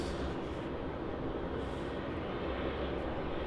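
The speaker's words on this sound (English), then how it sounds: "Looks like it's a Jetstar 787, and it is JQ Flight 8 arriving in from Singapore Changi" Jetstar Boeing 787 airliner arriving from Singapore at Melbourne Airport, a steady broadband jet roar that holds loud and even throughout, with no talk over it.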